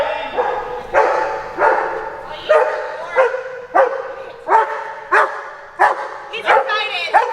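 An excited, highly motivated dog in scent work training barks repeatedly in loud, close, evenly spaced bursts, about a dozen sharp barks with whiny edges between them.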